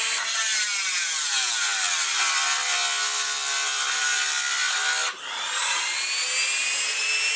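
An original EV electric motor runs under test with a loud, steady high whine and dense whirring tones that sweep in pitch, dipping briefly and then spinning back up, with no talking.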